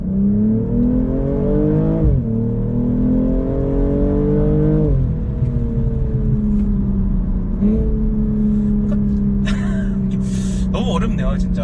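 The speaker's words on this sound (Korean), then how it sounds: "스포츠 플러스 모드로 지금 이제 해놓고 제로까지 틀어놓고 다시 밟아볼게요" A BMW in Sport Plus mode accelerates hard, its near, loud engine note climbing in pitch through three gearshifts, then some light clicking and rattling near the end.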